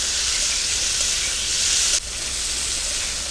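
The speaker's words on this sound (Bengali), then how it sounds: "চিংড়ি মাছটা ভেজে নিচ্ছি" Shrimp sizzle and fry in a hot pan in a home kitchen, a steady hissing crackle that shifts slightly midway as the pan is stirred, with no voices.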